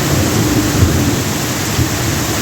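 Heavy rain pours down in a constant loud hiss, dense and unbroken, with a low rumble beneath it.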